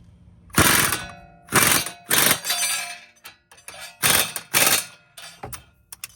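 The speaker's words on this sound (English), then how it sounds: "So I'll use my power tool to get this in." An impact driver fires in several short, loud bursts separated by brief pauses while fastening a car shock absorber, with mechanical clicks and rattles between them.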